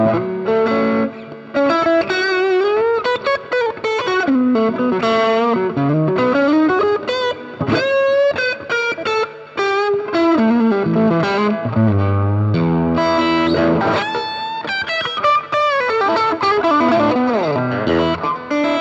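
Electric guitar run through a Bigera amp with heavy distortion and effects, playing sustained chords and melodic lines continuously and loudly for the whole stretch, with no talking.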